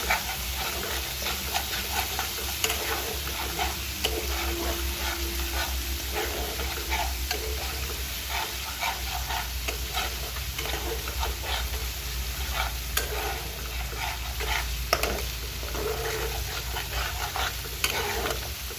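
A spoon stirs potol kalia gravy with hing and a little sugar as it sizzles in a pan, giving a continuous frying hiss broken by scraping strokes, close and steady, with no talk.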